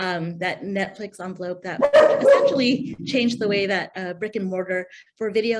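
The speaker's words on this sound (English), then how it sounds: "that's my dog in the background." A dog barks in the background during a leadership talk, a few short barks half-buried beneath steady close speech that continues throughout.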